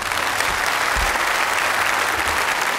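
A studio audience bursts into steady, dense applause as a TV show host is welcomed on stage, loud and sustained throughout with no pause.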